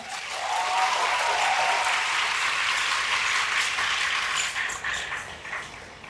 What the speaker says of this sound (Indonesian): Tepuk tangan untuk santri-santri kita